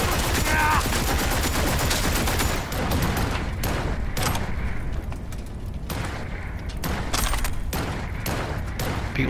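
Rapid gunfire in the video game Cyberpunk 2077, a dense, continuous fusillade of loud shots that stays heavy throughout with only slight dips.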